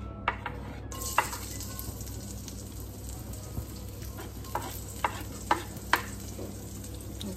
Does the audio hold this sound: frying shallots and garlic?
yes